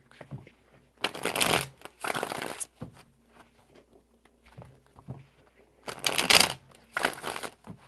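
Tarot cards being shuffled in several quick riffling bursts, close and crisp, with quiet pauses and faint handling noise between them.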